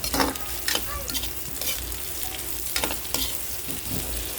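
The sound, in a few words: sautéing fried garlic and onion with eggplant in a pan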